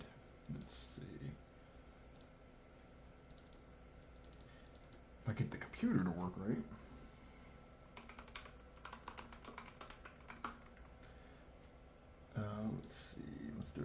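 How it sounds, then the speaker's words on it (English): Typing on an Ilovebee i61 gaming keyboard produces bursts of close, clicky keystrokes in quick clusters, separated by quieter pauses, while someone talks over parts of it. "I'd like to do a typing test next."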